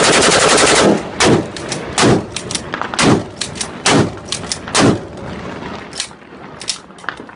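Gunfire in a combat zone near Mosul or Raqqa, a rapid burst of automatic fire followed by a series of loud, close single shots and short volleys at irregular intervals.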